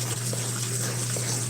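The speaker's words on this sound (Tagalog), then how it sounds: "Maghuhugas ako ng bigas." Rice being washed in water during home cooking: a steady, close gush of running water with a low hum underneath, continuous throughout.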